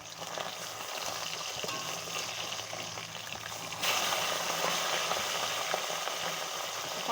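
Catla fish frying in hot oil, a steady close crackle and sizzle that swells louder partway through as the pieces are turned, with no talking.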